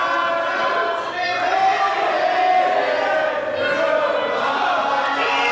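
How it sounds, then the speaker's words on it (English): A professional wrestling audience at a Great Lakes showcase match cheers and shouts in a sustained, rowdy roar, steady and fairly loud, with voices rising and falling within the noise. "Well, I think we know how the crowd feels."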